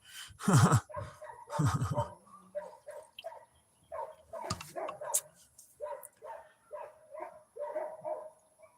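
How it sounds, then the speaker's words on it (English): Dogs bark at deer outdoors: two loud close barks open the stretch, then a string of softer, higher yips and whimpering barks continues at a steady pace. "What is she barking at? Deer."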